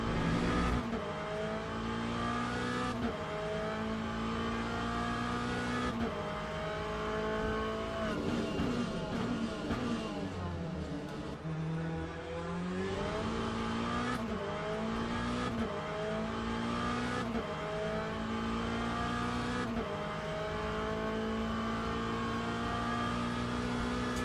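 A race car runs a full lap in the sim game Le Mans Ultimate. The engine screams loud and continuously through repeated upshifts, drops on downshifts into braking zones, then climbs again under hard acceleration, with light tire squeal. No one talks.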